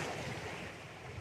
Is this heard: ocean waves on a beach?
yes